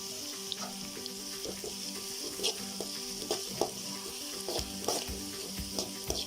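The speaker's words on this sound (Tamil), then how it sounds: "வெங்காயம் நல்லா பொன்னிறம் ஆகிற வரைக்கும் நல்லா வதக்கணும்" Chopped onions sauté with salt in a hot pan for a prawn masala gravy, giving a steady close sizzle broken by scraping and clinking stirs throughout.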